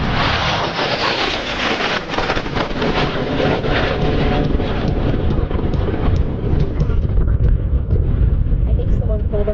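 MiG-17 jet fighter making a high-speed pass at the Wings Over Whiteman 2024 airshow: a sustained, loud, broadband jet roar with wind buffeting, fading slightly as it passes, with an announcer speaking over it.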